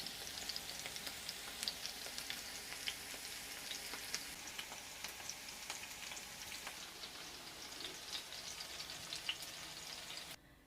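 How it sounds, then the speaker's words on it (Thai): Eggs fry in butter, a steady, soft crackling sizzle with scattered sharp pops, continuous and close throughout, ending abruptly. "ทอดไข่นะคะทอดด้วยเนยค่ะ"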